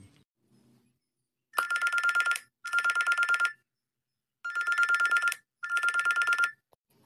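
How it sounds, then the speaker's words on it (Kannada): A cartoon telephone rings four times in two pairs of bright, buzzy bursts, loud and clean against silence, with no talk. "ಯಾರಿವ ಇವ್ರು ಫೋನ್ ಮಾಡಕತ್ತೀರಾರ"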